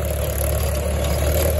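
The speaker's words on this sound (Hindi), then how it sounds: "महिंद्रा 265 है, 7 फीट रोटावेटर है" A Mahindra 265 DI tractor engine runs steadily, coupled to a 7-foot rotavator, giving a continuous low diesel drone with a faint mechanical clatter and no break in level.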